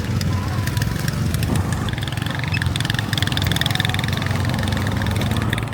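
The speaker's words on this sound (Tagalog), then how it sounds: "may kumpulan ng motor dito sa unang araw natin" Several motorcycles idle together at the Mount Pulag jump-off, a steady, close engine rumble running throughout with faint talk mixed in.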